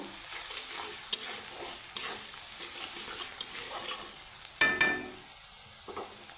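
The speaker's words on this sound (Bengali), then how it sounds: "পেঁয়াজটাকে আমি লাল করে ভেজে নেব" Onions frying in a pan for a Katla fish curry, a steady soft sizzle with occasional stirring clatters and a sharper utensil knock partway through.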